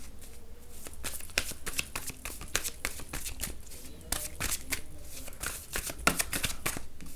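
Tarot cards are shuffled close up in quick, papery riffles and slaps, a dense run of sharp bursts that carries on throughout, with a faint voice behind it at moments.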